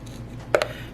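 A knife presses down through a partly frozen chocolate cake made from Oreo cookies, giving two quick, close crunching cuts over a low background hum.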